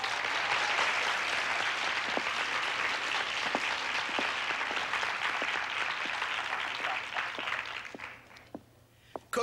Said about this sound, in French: Je vous demanderai de l'encourager chaudement par vos applaudissements.